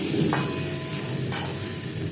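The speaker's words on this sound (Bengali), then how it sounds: "আলু হালকা করে ভাজা হয়ে গেছে" Potatoes fry in a pan with red chili powder, giving a steady close sizzle with two brief scraping stirs and no voices.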